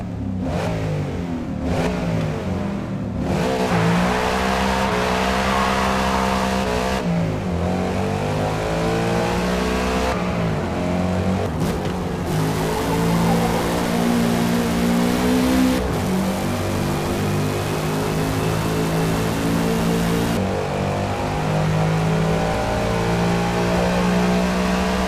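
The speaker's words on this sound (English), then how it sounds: "compare the Ford Mustang stock to the Ford Mustang with a racing exhaust" A Ford Mustang V8 with a racing exhaust in Forza Motorsport revs repeatedly, roaring up and dropping back in loud surges with a deep, throaty burble between throttle blips.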